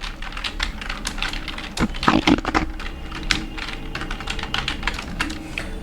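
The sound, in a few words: typing a father's name on a computer keyboard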